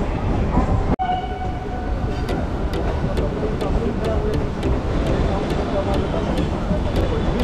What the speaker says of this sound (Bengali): পাশ দিয়ে যে ট্রেনটা যাচ্ছে সেটা হচ্ছে আমার অন্যতম প্রিয় হাওড়া টাটানগর স্টিল এক্সপ্রেস